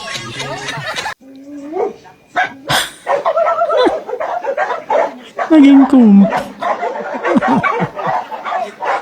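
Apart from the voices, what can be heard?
dog barking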